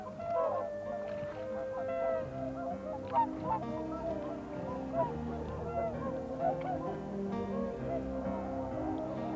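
A large flock of whooper swans calls by a pond, a steady chorus of overlapping honking, trumpeting cries at middle distance that keeps going without a break.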